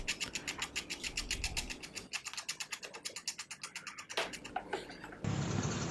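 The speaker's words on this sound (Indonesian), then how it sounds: "Lalu itu kita kikir-kikir dengan mata pisau seperti ini." A blade scrapes along PVC edging on kitchen cabinet work in rapid, rhythmic rasping strokes, close and steady, pausing briefly before a final harsher scrape.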